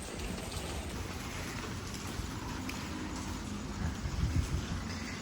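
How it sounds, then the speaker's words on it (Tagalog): Heavy rain pours steadily during a typhoon in Taiwan, a dense continuous wash of drops with low rumbling beneath and a few heavier splashes near the end, no voices. "Kaya pala ulan ng ulan dito sa Taiwan ngayon kasi mayroong bagyo."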